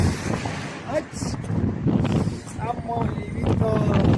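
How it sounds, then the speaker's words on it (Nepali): A strong, cold midday wind gusts against the microphone in a continuous low roar and rumble while someone talks over it throughout. "के साह्रो हावा चलेको"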